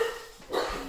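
A pet dog gives a short bark, then a second louder bark at moderate distance indoors, with no talking.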